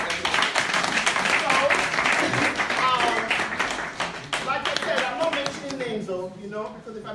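Clapping from an audience at a book event, a patter of hands under a voice that keeps talking, thinning out toward the end.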